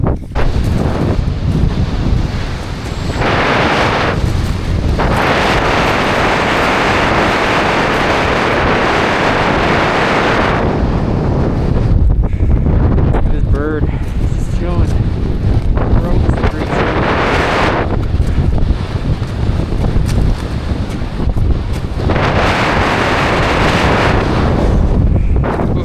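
Strong wind gusts roar across a Mount Hood ridge, buffeting the microphone in a loud, continuous rushing that swells and eases over the whole stretch.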